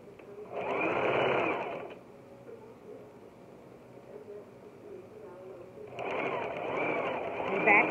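A sewing machine stitches a dish towel in two loud whirring runs, one near the start and one at the end, with a quiet pause between where a voice speaks over the room.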